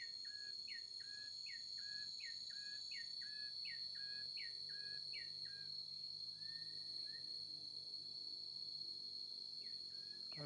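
Cicadas drone steadily through a village plantation while a bird repeats a rhythmic series of chirping calls close by, then falls quiet, leaving the insect buzz alone.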